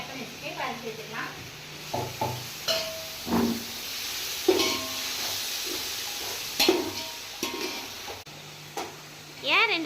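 Chopped medium-sized tomatoes go into a sizzling prawn biryani masala, with a hissing fry and bursts of stirring rising and falling under a person talking nearby.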